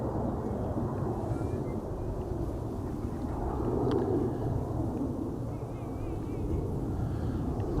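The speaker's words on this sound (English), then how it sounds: "767 taking off from the wrong runway." A LATAM Cargo Boeing 767 taking off, a broad low roar of jet engines sustained throughout at moderate distance, with wind rumble over the microphone.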